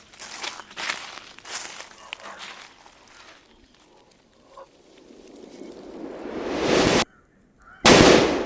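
Paper bomb firecrackers go off outdoors during a Vishu celebration, with a rising crackling roar that cuts off, a brief gap, then another loud burst, after earlier scattered crackles and rustling.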